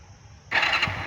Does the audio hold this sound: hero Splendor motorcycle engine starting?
yes